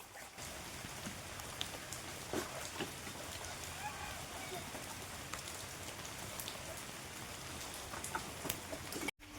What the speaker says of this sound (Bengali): অনেক বৃষ্টি পড়ছিল এখন একটু কমেছে